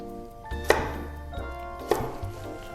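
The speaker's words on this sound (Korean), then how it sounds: "그래가지고 오늘은 얇게 좀 채를 썰어 볼게요." A knife cuts a carrot into thin strips on a cutting board, two distinct chopping thunks about a second apart over quiet background noise.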